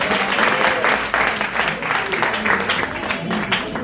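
Audience applause at a public event in Pointe-Noire, a dense steady wash of many hands clapping throughout at a fairly loud, even level with no clear speech.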